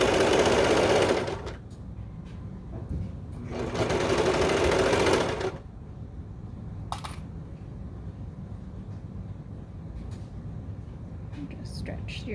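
A serger stitching the waistband of baby bummies runs in two short loud bursts of fast whirring, separated by quieter gaps with light handling clicks and faint movement.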